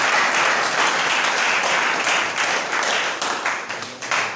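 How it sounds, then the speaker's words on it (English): Lecture-hall audience at a general assembly clapping for their lecturer, a dense, steady round of many hands close by that thins slightly toward the end, with no talking over it. "Abeg make we clap for our lecturer again"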